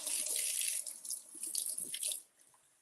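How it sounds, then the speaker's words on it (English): A cucumber is rinsed under a running kitchen tap, water splashing steadily and close for about two seconds before the flow stops, leaving a quiet room. "All right, let's wash our cucumber and slice it."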